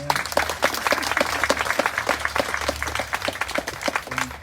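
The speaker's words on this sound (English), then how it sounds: "So how about a round of applause for Roseanne?" Audience at a student art exhibition award ceremony breaks into applause, a dense, steady wash of many hands clapping with sharp individual claps standing out throughout.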